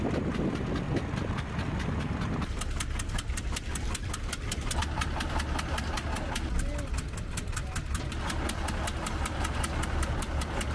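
A pumping system running while sand is unloaded from a bulk cargo ship, a loud steady mechanical drone with a rapid regular knocking pulse throughout, under narration.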